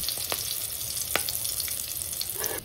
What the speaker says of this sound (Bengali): এবার গরম তেলের মধ্যে গোটা গরম মশলা দিয়ে দেব।